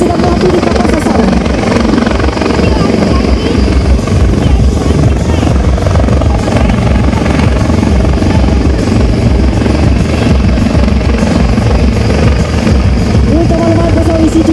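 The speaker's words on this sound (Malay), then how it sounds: "pesawat EC-725 kini sedang berada di kapal sasaran" EC-725 military helicopter hovering over a target ship during a special forces maritime demonstration, its loud, steady rotor and engine roar filling the whole stretch, with faint voices beneath.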